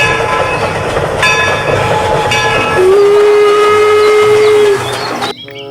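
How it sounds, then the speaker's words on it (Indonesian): Toy train locomotive sound effect playing loud and alone: steady rumbling rail clatter with a long sustained steam whistle blast in the middle, ending abruptly. "lokomotif kereta api"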